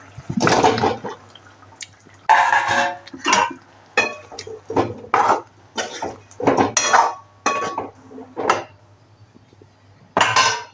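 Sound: whole potatoes being added to a pan of spices

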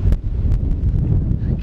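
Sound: wind blowing on the microphone

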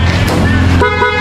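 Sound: Race Pro car-style horn on a Honda CBR150 motorcycle

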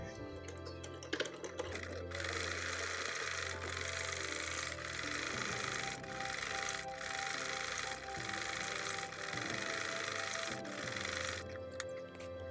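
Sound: sewing machine stitching a suit slit

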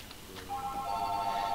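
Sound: house phone ringing

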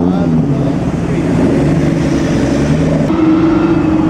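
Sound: BMW car driving past at concours

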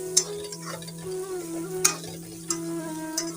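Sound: onions frying in a pan for a leafy greens dish

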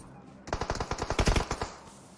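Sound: gunfire in the video game PUBG Mobile

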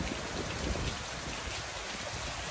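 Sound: rain falling

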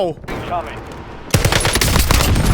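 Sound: gunfire in the video game Call of Duty Warzone

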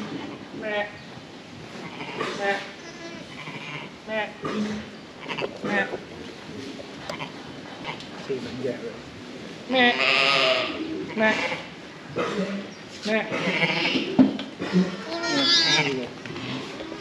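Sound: sheep bleating during lambing

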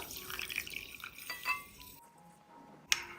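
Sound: pouring a cup of water into bowl of sabja seeds

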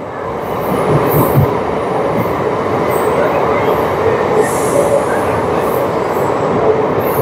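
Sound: Sahebganj–Jamalpur EMU local train arriving

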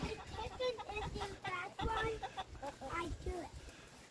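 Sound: chickens clucking

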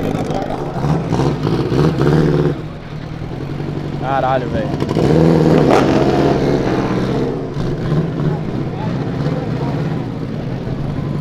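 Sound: Subaru race car accelerating in a street race

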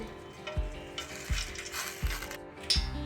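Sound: tempering spices sizzling in hot oil for fish curry

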